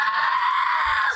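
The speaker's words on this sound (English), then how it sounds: "That poor father was watching his son scream for help" A young boy at the beach screams in agony from a jellyfish sting, one sustained, strained high-pitched cry held loud and close, with no other voices over it.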